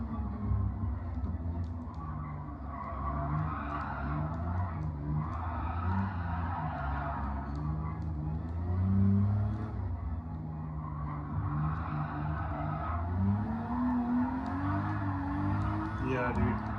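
Old car on worn old tires fishtailing: a steady engine drone that rises and falls through the throttle, with a skidding tire hiss underneath and voices talking over it.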